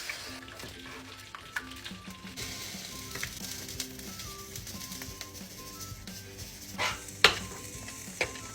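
Pasta fries in a pan with a steady moderate sizzle and soft stirring sounds, broken by a few brief sharper clinks and pops toward the end.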